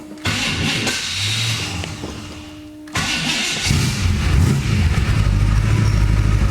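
A 1959 Studebaker Silver Hawk with a weak battery cranks over briefly, catches and starts, then settles into a steady, close, loud idle that swells slightly as the engine warms.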